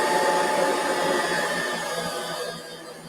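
Stand mixer on speed 1 kneading sourdough bread dough, a steady broadband motor whir with a faint whine, fairly loud and constant, easing slightly toward the end, no talking.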